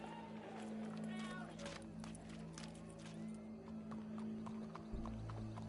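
Horse hooves clip-clop in Red Dead Redemption 2 amid game ambience, with a horse whinnying and voices talking over the steady hoofbeats and a low hum.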